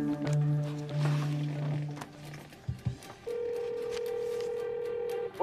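A telephone call is placed: a few steady dial tones sound first, then after a short clatter a long, even ringback tone hums, close and clear, with no voices.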